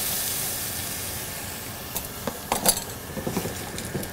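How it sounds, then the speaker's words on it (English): Seafood pasta with homemade fish stock simmers in a pan, a steady soft hiss and bubble, joined in the second half by light clinks and scrapes of a utensil against the pan. "as you see, it's boiling nice"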